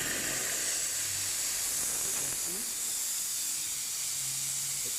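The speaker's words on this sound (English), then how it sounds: "It releases the steam." An espresso machine's steam wand lets out a steady, loud hiss of steam that runs unbroken from start to finish. A faint low hum sits beneath it.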